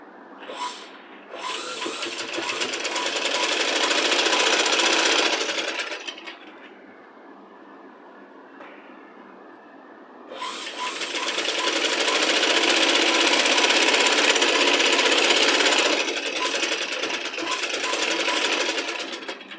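A sewing machine stitches a child's Punjabi dress top, running in two long loud whirring bursts with a quieter lull between them, close up and with no voices.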